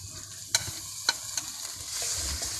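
Ginger, green chili and garlic paste spices frying with onions for a snail curry, a close sizzle punctuated by a few sharp utensil knocks while stirring, the hiss swelling louder toward the end.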